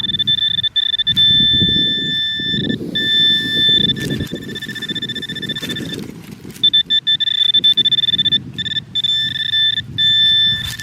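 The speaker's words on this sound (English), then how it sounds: "turn the pinpointer on. The detector says it's right in here somewhere" A metal detector pinpointer beeps with a steady high tone, briefly broken off and resumed, while digging scrapes and rustles in park soil underneath.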